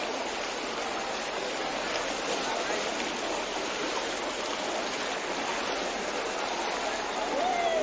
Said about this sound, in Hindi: इतना स्पीड में पानी आ रहा है